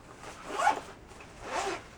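A zipper on a service dog bag is drawn twice, two quick close zips with a short pause between, alone and fairly quiet.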